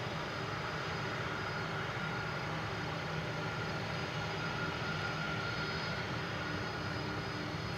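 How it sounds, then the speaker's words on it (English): An arriving FedEx MD-11 jet approaching Minneapolis–Saint Paul airport gives a steady, distant broadband engine roar that holds at an even level throughout, with no voices. "we're going to get one more shot of the arriving FedEx MD-11"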